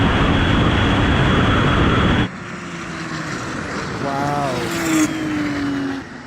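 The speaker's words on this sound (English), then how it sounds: "This turbo just keeps on boosting all the way. It doesn't drop off at all." A Porsche 911 Turbo pulls hard in a drag race, a dense roaring engine note at first that drops away into a quieter, distant drone with rising whine as the car speeds off.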